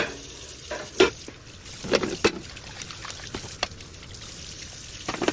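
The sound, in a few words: water rinsing plates while dishwashing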